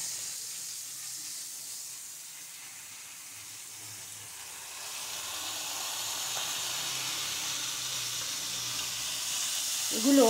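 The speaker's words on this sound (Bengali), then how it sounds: "এবার আমি এর সঙ্গে পালং শাকটা দেবো" Spinach is added to a hot pan, bringing a soft, steady hiss and sizzle that grows a little stronger midway and stays faint and even throughout.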